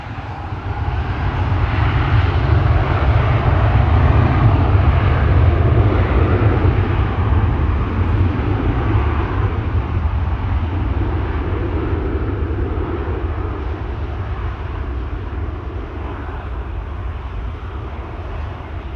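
A Delta airliner arriving at Amsterdam Schiphol Airport, its engines a steady, loud broadband roar that swells early and then holds, heard alone without voices.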